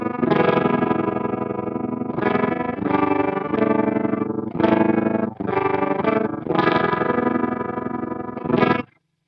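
Electric guitar played through an Electro Harmonix Stereo Pulsar tremolo pedal with depth at maximum, its chords chopped into loud, rhythmic pulses that stop and start sharply, alone with no voices.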